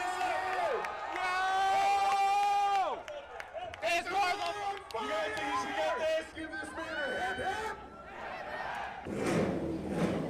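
Crowd at the SEMA auto show cheering and whooping for a driver introduction, with loud sustained hollers and shouts layered over chatter, briefly dipping before a final burst of clapping and noise.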